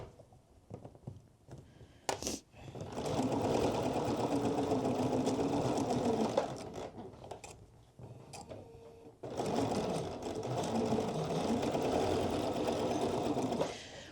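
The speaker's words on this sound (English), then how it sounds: "we are going to be sewing at 1/4 of an inch from the fold there" A home sewing machine runs a 4 mm stitch along a hoodie zipper seam in two sustained bursts, a short pause between them, with faint handling noise around the stops.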